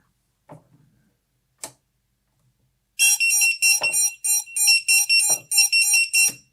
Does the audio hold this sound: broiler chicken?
no